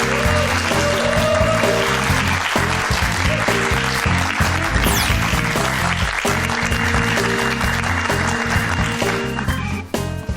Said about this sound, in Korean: 문정인 교수님을 큰 박수로 맞이해 주시길 바랍니다